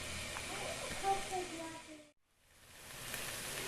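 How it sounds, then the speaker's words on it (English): Curry lamb sizzling in a hot pan, a steady, soft crackling hiss that briefly drops out, then returns, with a person talking over it. "Okay, it's hot enough, it's sizzling."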